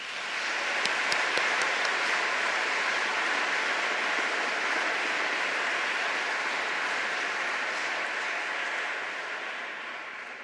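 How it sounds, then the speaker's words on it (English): Sustained round of audience applause at an evening lecture and award ceremony, dense and steady clapping from a large crowd filling the room for about ten seconds before tapering slightly, no talking over it. "Can we please give him one more round of applause?"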